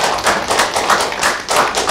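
An audience at an academic symposium in Gumi applauds four professors, producing steady, dense clapping that swells and ebbs in loudness throughout, with no voices over it.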